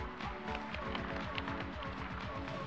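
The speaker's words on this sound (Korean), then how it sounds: "박수로 맞이해 주시기 바랍니다." An audience claps steadily to welcome panelists at a round table session of the 2020 Seoul Biennale of Architecture and Urbanism, a dense, even applause that lasts throughout with no break.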